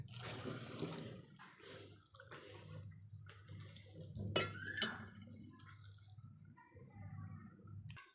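Water is poured into a bowl of boxed Shan tikka masala mix for a chicken zinger burger marinade, giving a soft splashing pour over a steady low kitchen hum, with clinks from utensils and the bowl.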